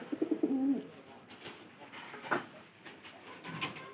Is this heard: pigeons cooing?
yes